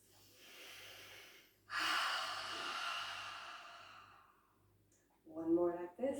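Breathing during a relaxation breathing exercise: a long, soft open-mouth exhale follows a quieter breath, with a low steady hum underneath, then a brief louder breathy burst at the end.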